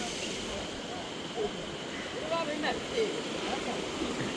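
Floodwater pours steadily through a drainage channel in a rain-flooded village in Jaffna, a constant loud rushing wash that fills the whole stretch, with brief faint tones rising over it.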